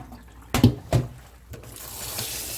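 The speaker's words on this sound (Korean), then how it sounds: "깨끗하게 씻어낼게요" Fresh seaweed being rinsed under running water, with a couple of short splashing bursts from handling followed by a steady, faint stream of tap water filling or flowing into a sink.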